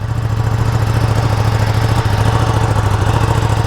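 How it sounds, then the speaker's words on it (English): A 2020 Ducati Panigale V2 motorcycle engine idles steadily after a cold start with a low, even putter through its side exhaust, close and fairly loud, with no voices. "Maybe it's the side exhaust, and this is a cold start."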